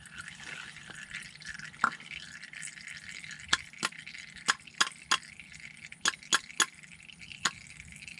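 Engine oil from an Infiniti Q drains during an oil change, a faint steady trickle broken by a series of sharp, separate drips landing one after another, close by and with no talk.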